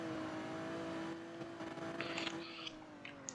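A video game car engine revs high in a police chase, a steady droning tone that wavers slightly, with faint clicks and blips layered on top.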